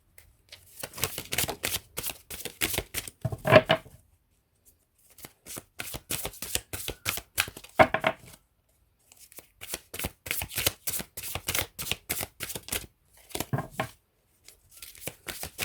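A tarot deck is shuffled in three separate bursts of rapid riffling card flutter, crisp and close, with short pauses between them and no talking.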